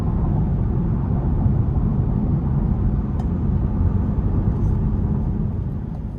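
Cadillac CT5 Premium Luxury with a 3.0-liter twin-turbo engine while driving: a steady, loud low rumble of engine and road noise from inside the cabin, constant throughout without talk.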